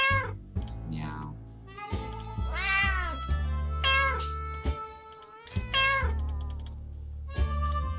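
A cat in the video game 60 Seconds meows several times in clear, close, drawn-out calls with short gaps between them, loud and alone without talk over it.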